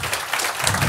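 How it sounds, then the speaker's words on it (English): A seminar audience applauds at the close of the session, a brief burst of dense, even clapping. "Khashayar and Anna, a big round of applause"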